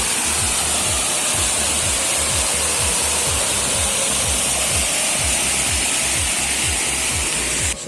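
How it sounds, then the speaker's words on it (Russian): The Lower Sukil waterfall in the Skole Beskids mountains roars steadily, a loud, continuous rush of falling water close by with no breaks or voices. "И тут еще один водопад."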